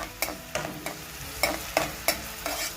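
Onions sizzle and fry in a pan for an egg bhurji, with about eight sharp scraping stirs of a spoon at a steady rhythm, each one lifting the crackle briefly. No one talks.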